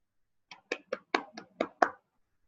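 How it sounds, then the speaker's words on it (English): Seven sharp hand claps in a quick, slightly uneven rhythm, close and fairly quiet, standing alone with silence before and after. "To applaud, that means to clap."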